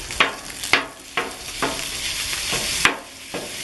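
Onions sizzling on a griddle for a chopped cheese sandwich while a spatula chops through them, steady loud frying hiss punctuated by repeated sharp metal scrapes and taps, close up with no voices.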